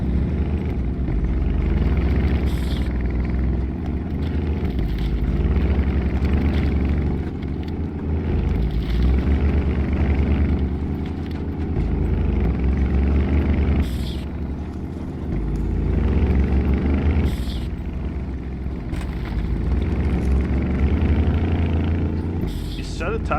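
A 6x6 RAM truck engine in a SnowRunner game mod rumbles steadily and loudly throughout, a low continuous drone with slight swells.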